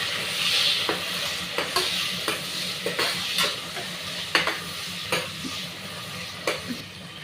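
Mutton with spices and tomato fries in a pan under a steady close sizzle, while a utensil stirs with regular scraping strokes and light taps against the metal.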